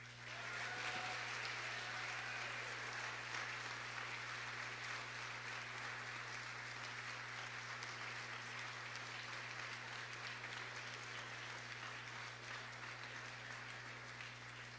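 A concert audience at a Charlotte Folk Society show claps to welcome a folk singer: sustained, even applause that sounds somewhat distant and thin, over a low electrical hum and with no voices.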